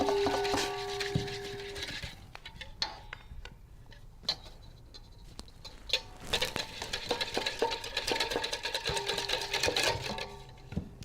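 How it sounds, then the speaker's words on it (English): A whisk beats rapidly against a bowl to bring a mixture back to an emulsion, giving close, fast rattling strokes that slacken briefly in the middle and then pick up again. "This is almost Thelonious grade whisking skills"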